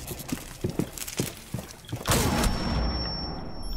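A frag grenade in Rainbow Six Siege goes off after a string of sharp gunshot-like cracks, ending in a loud blast whose rumble and high ringing trail off.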